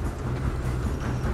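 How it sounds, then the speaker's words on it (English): A steam train rumbles along in the video game Red Dead Redemption 2, a dense, steady low roar of wheels and cars running close and loud without a break. "We have to stop this train."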